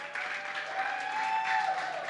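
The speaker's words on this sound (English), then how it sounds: "let's give a round of applause for Team 1" Audience at an expo grand finale competition claps together in a thin, steady patter that sounds somewhat distant and muffled, running alone for a couple of seconds.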